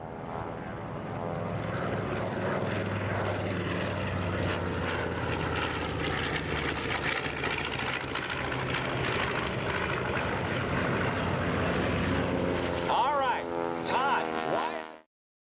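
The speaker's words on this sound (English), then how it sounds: "Coming through right now with twin 450 horsepower engines." A twin-engine AT-11 Kansan propeller airplane with two 450 horsepower engines passing overhead at an air show, a loud, steady droning roar sustained throughout with a commentator speaking over it.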